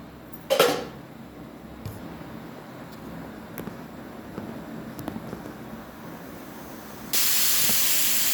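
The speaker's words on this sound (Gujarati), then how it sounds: "ચલો એક સીટી વાગી છે" A kitchen pressure cooker cooking potatoes, tomatoes and vadi gives a sharp burst of steam early on. A low, steady hiss with faint clinks follows, then a loud, continuous whistle of steam release rises near the end.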